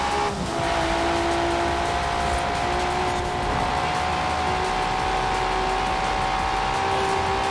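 Cars racing in Forza Horizon 4, including a Nissan Skyline R34: a loud, steady engine drone holds a sustained high pitch, with tire noise layered underneath throughout.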